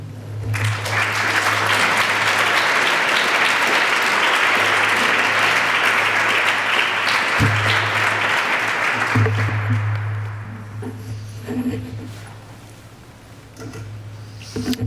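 A lecture audience in a gallery applauds to welcome the speaker, loud sustained clapping for about ten seconds that tapers off into scattered claps, with low murmurs beneath.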